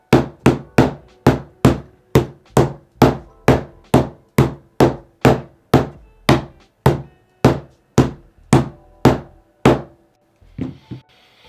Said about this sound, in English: I'm just gonna hit it with the hammer and see what it does.